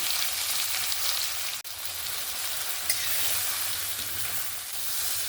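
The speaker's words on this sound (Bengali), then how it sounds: "আমি একে একে চিংড়ি মাছগুলো দিয়ে দেবো। আমি এরকম 3টে করে ভেজে নেব।" Prawns fry in hot oil in a pan, producing a dense, continuous hiss that sounds almost like rain, broken only by one brief dip and a faint tap.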